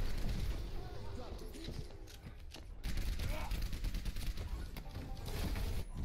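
Rapid gunfire from an Overwatch match, including Soldier 76 and Mercy shooting, crackles in dense bursts with a short pause midway, layered with game effects and mixed under a commentator's voice.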